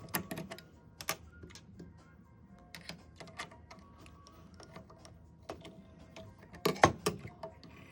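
Presser foot being swapped to a zipper foot on a sewing machine: scattered small clicks, snaps and metallic taps of parts being handled, close and fairly quiet, with a louder cluster of clacks near the end.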